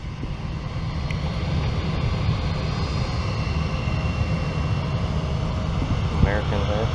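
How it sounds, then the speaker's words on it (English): A passenger plane takes off at an airport where an A330 had forced a go-around. Its engines make a loud, continuous roar throughout, and a voice is heard briefly near the end. "We'll have to see after this plane takes off."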